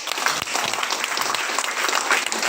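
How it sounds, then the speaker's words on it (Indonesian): Audience applause at a gathering in an Islamic boarding school, a short burst of dense, lively clapping from a crowd, loud and continuous throughout. "Tepuk tangan dulu."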